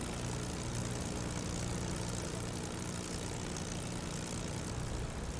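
Simulated P-51 Mustang with a Merlin engine running in DCS World, a steady dense engine drone with low rumbling pulses, loud and continuous without a break.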